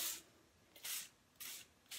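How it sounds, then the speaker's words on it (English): Water is misted gently onto a coffee filter in three short, soft spray bursts spaced about half a second apart, close and quiet, with no one talking. "And now we're gonna spray real gently. This is just water."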